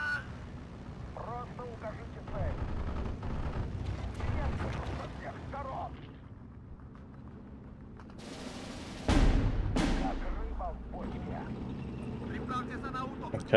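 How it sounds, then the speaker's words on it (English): Mortar fire in the WWII strategy game Steel Division 2, with heavy booming blasts around the middle and rumbling battle noise throughout, under someone talking. "Keep mortaring that."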